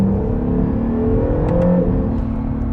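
A 2019 Acura NSX supercar accelerates hard, its engine droning steadily up through the revs, with a brief dip as it shifts up, heard from inside the car.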